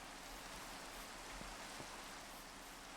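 Steady, dense hiss of rain during stormy weather in a video game, an even wash of drops that holds at the same level throughout with no voices over it.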